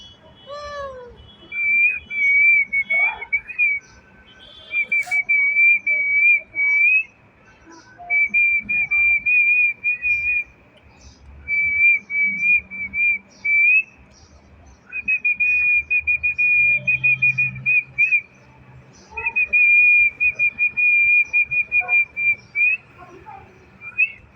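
A person whistles to call a cat in repeated short trilling bursts, pausing between phrases, loud and close, with faint background noises underneath.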